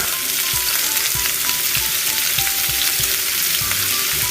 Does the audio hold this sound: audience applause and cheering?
no